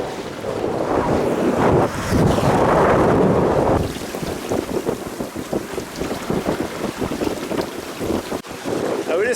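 Sailboat moving through a narrow reef channel, with heavy wind buffeting and rushing water loud in the first seconds, then choppier splashing and gusts continuing up close.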